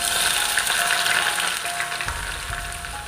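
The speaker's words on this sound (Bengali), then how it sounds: "তেজপাতাটা গরম হওয়ার সঙ্গে সঙ্গে দিয়ে দেবো পেঁয়াজ" Onions and bay leaves fry in hot oil for a spiced chicken biryani, giving a loud, steady, close sizzle with a faint stirring rustle and no voices.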